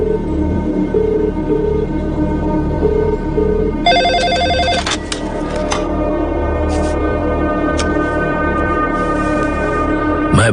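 A telephone bell rings in repeated bursts from a Hindi-dubbed South Indian thriller, loud and insistent, set against a steady background of music and scene noise.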